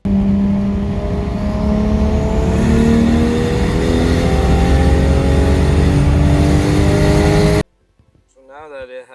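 A 1JZ-GTE engine swapped into a Lexus SC400 revs loudly and steadily for several seconds, its pitch climbing, then cuts off abruptly before a voice speaks briefly at the end.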